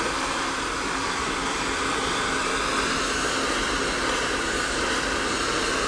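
A lightweight blow dryer dries freshly cut hair during an asymmetrical layered bob haircut, giving a steady, loud rushing roar that holds unbroken from start to finish with no talk.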